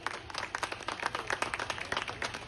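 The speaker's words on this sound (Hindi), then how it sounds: "जोरदार तालियां होनी चाहिए।" An audience claps after a women's empowerment stage performance, giving dense, steady applause at moderate distance for a couple of seconds with no talking.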